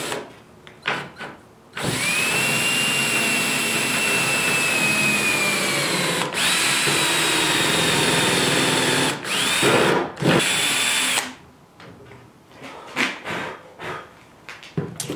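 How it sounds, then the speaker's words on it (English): A power drill with a countersinking bit whines steadily as it bores into the end of a wooden board for several seconds, loud and close, with brief pitch dips as the bit bites, then stops. "now I know I want to drill in the center here"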